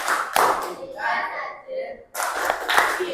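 Children clapping their hands together in a rhythmic classroom clapping game, bursts of claps separated by a short pause, close and lively, with someone talking between the rounds.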